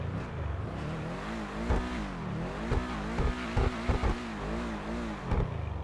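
A Pegassi 8F Drafter sports car engine in GTA 5 Online idles and revs repeatedly, the pitch climbing and falling in several short bursts, loud and close with no talking.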